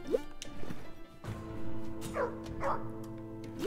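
Dog barking in the roguelike video game Undermine: several short sharp barks and yips in a row, close and clear over steady game background sounds, with no talking.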